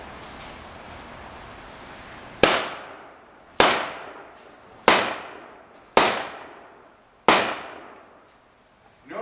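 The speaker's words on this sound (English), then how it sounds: "He just fired 5 without interrupting his sight picture by just simply pulling the trigger." Five semi-automatic shots from an M1 rifle, sharp loud cracks spaced about a second apart, each trailing into a decaying echo over faint background noise.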